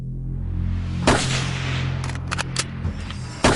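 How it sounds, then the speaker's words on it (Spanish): Several sharp gunshots crack out in a plaza during the Kennedy assassination, one loud report followed by a quick cluster of shots and a final blast, over a low steady hum. "Cuando los disparos resonaron en la plaza"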